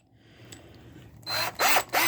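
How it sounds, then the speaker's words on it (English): A drill chuck being opened, giving a few close ratcheting mechanical clicks and whirring bursts after a quiet start, with no voices. "You open up the chuck."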